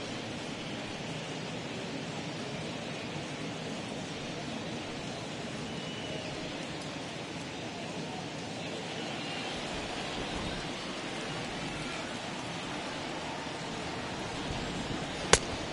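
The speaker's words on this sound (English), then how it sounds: "It's coming down a little heavier now." Steady, even rain hisses over a baseball stadium in a video game, a dense continuous wash of noise heard alone with no crowd or commentary above it.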